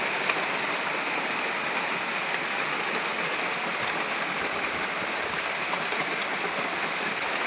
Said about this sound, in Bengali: আকাশে বৃষ্টি হচ্ছে।